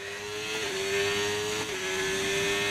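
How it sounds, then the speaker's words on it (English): Race car engine in the F1 25 video game holds a steady high whine at near-constant pitch, loud and continuous, with a brief dip midway before settling back. "I want to hear my engine"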